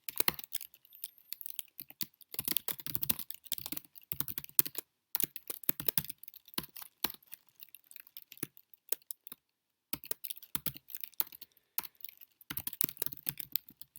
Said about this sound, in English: And you'll see me type in here